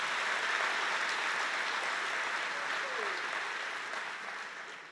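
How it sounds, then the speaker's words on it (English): A large crowd of new students at a university welcome ceremony applauds in a broad, sustained wash of clapping that fades gradually toward the end. "I'd like you to give yourself a round of applause for being selected in this university."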